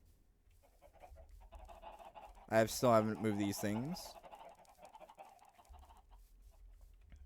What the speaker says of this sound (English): And go past the noisy chicken farm.